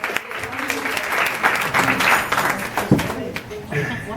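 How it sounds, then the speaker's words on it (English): Audience applause for a Dean of Libraries at an event with a live auction, loud sustained clapping with some cheering and talk mixed in throughout. "Round of applause for Dean of Libraries, Ms. Laura Probst."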